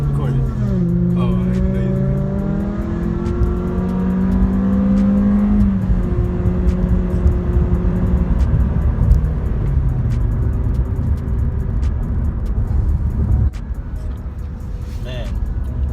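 A Camaro SS engine revs loudly up close, its rising and falling tones sweeping across the clip and then settling to a lower steady drone, with someone talking over it.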